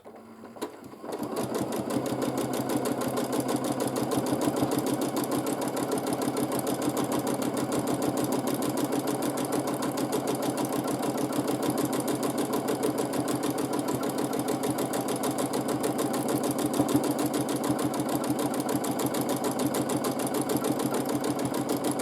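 A sewing machine stitches free motion quilting of pebble shapes, running at a fast, even, continuous rattle for over twenty seconds after a brief quiet start, with no voices over it.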